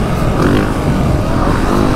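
Yamaha YZ450F dirt bike engine droning steadily and loud while being ridden slowly, a continuous rough rumble with no talking.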